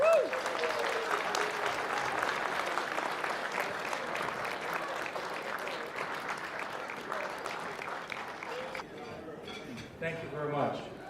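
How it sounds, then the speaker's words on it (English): Sustained applause from a gala audience for a drag racing hall of fame inductee, steady and full for several seconds, then thinning out as a voice begins speaking near the end. "let's have a nice round of applause for our first inductee of 2018,"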